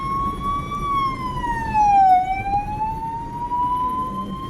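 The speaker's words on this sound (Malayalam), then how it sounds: "ആംബുലൻസ്" A continuous wailing ambulance siren sweeping slowly down and back up in pitch, steady and fairly loud over road noise, heard from inside a bus.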